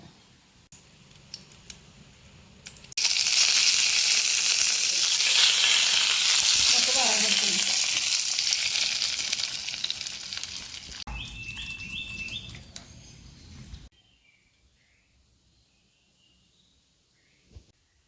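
Spices tempering in hot oil for pachadi give a loud, steady, crackling sizzle that bursts in suddenly and holds for about ten seconds before cutting off, with quiet kitchen noise before and after.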